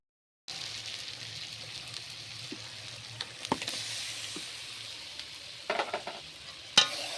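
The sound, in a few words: frying chili powder with taro stems in a pan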